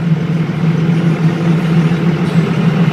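A Cummins inline diesel truck engine labors steadily uphill in sixth gear at about 30 mph, a continuous deep droning rumble with a strong low hum, heard from inside the cab with no talk.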